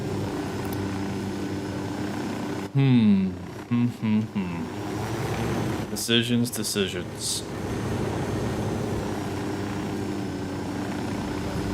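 A helicopter in the Ghost Recon Wildlands video game keeps up a steady rotor and engine drone through the whole stretch, with voices talking over it in bursts.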